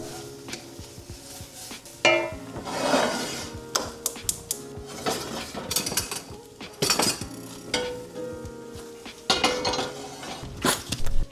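Apples and onions are stirred in a frying pan with olive oil and red pepper flakes, a utensil clinking and scraping against the metal pan in irregular, close taps and scrapes with no talk.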